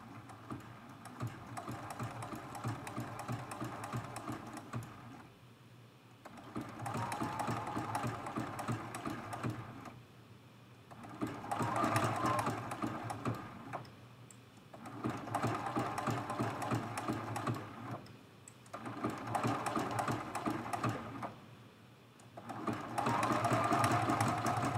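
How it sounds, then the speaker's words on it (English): Domestic sewing machine stitching a zigzag quilting stitch on a quilt-as-you-go block, running in steady bursts of several seconds separated by short pauses, fairly close and continuous with no talking. "I'm starting in that previous zigzag stitch, so the start and stop is hidden within that stitch"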